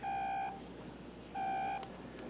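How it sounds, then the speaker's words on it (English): An old car phone rings inside a moving car, two short electronic trill bursts about a second apart, faint over the low road rumble. "Car phone."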